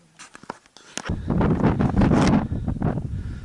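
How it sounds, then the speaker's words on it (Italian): Cold wind gusts across an exposed mountain ridge near the summit of Monte Autore, roaring as loud, rumbling microphone buffeting after a few light rustles and footsteps at the start. "Mamma mia, che vento gelido che ci sta qua."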